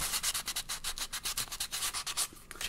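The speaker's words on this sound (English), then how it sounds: "Here we also need a bit of sandpaper to sand," Sandpaper rubs back and forth over a handmade cardboard craft drum for a gift box, a quick steady run of close, rasping strokes with no voices.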